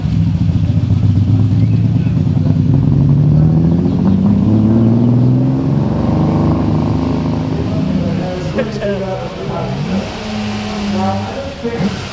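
A Ferrari sports car engine revs and accelerates loudly nearby during a parade at the Concorso d'Eleganza Villa d'Este, its pitch climbing and then dropping back, with steady mechanical clatter throughout.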